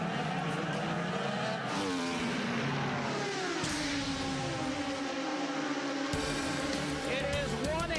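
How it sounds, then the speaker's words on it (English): IndyCar race cars at speed on the Indianapolis Motor Speedway oval during the Indianapolis 500, engines whining and shifting pitch as they pass, a steady loud roar throughout with a brief Doppler drop midway. "Marco goes low, about 4 car lengths behind his dad, Michael Andretti."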